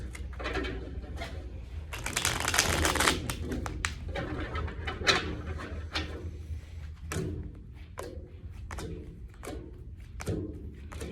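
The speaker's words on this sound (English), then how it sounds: "I'm going to start by shuffling and dealing out 3 cards" Cards are riffled in a quick shuffle, then a series of soft slaps and flicks follow as cards are dealt out one by one, close by.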